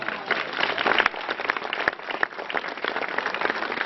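Applause from an audience at an inauguration for restoration works on a historic villa, dense steady clapping filling the whole stretch at moderate volume.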